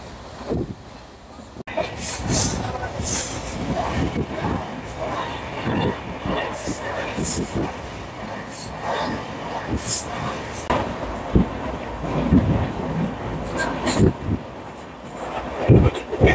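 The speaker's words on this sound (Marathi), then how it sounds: "तर आता गाडी रोहा स्टेशनला आली आहे." A passenger train on the Mumbai–Ratnagiri line pulls into Roha station during the monsoon, with a steady rumble, rhythmic wheel clatter and sharp metallic squeals and clicks, heard loud and close from on board.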